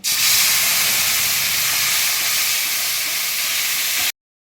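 Spice paste dropped into hot oil for a vegetarian Bengali chana dal fritter curry, giving a loud, steady frying hiss and sizzle that holds for about four seconds and then stops abruptly.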